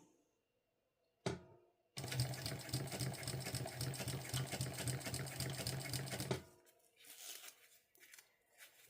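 A sewing machine stitches a sling bag in one steady, continuous run of rapid mechanical needle clatter lasting several seconds, close up, preceded by a sharp click and followed by quieter handling rustle.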